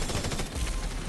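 Rapid video game gunfire, a short continuous burst of closely spaced shots that fills the whole moment at steady loudness.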